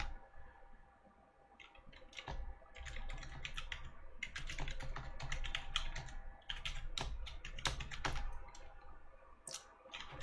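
Fingers tap out a command on a computer keyboard in quick, uneven bursts of crisp clicks, close and clear, separated by brief pauses and with no speech.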